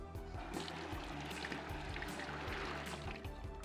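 Water poured over zucchini seeds in a bowl: a steady trickling stream splashes continuously for a few seconds, quiet and close, with no talking.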